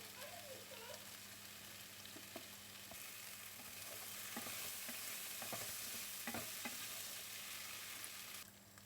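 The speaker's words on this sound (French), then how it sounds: "Et de temps à autre, je viens mélanger comme ceci, sans abuser, pour qu'elles ne fondent pas aussi" Potatoes fry in a pan and are stirred now and then, a quiet continuous sizzle with occasional soft scrapes of a utensil, close and without speech.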